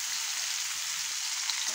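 Hog plums fry in hot oil with five-spice, dried red chillies and bay leaves, giving a steady, even sizzle and hiss at moderate level, with no voices.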